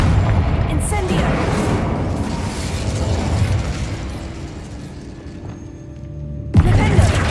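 Fiery spell blasts in Hogwarts Legacy, a Confringo and Incendio barrage: dense, sustained rumbling explosions and bursts filling the scene, easing toward the end before a fresh loud blast erupts.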